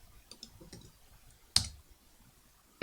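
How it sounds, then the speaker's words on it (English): Sharp, irregular key clicks from a computer keyboard as a name is typed: a few faint taps early on, then two louder, isolated clicks, close and with no voices. "So we go over to type in Dadiana again."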